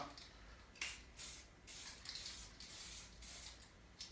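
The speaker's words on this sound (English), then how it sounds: "I'm doing a test spray down here." Short bursts of Duracoat spray from an aerosol can aimed onto a piece of cardboard, a steady hiss repeated several times in close succession, close up and fairly quiet, with no talking.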